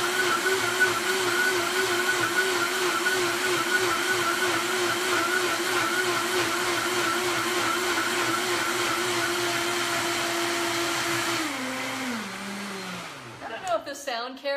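A countertop blender with a switch whirs steadily as it blends coconut yogurt, holding a constant motor drone before the pitch drops and the motor winds down near the end, followed by a few brief clatters.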